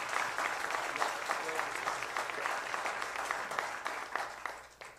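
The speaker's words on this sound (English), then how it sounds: "Let's clap." A church audience claps steadily after a testimony introduction, with dense, continuous applause that holds level and then tapers off at the end.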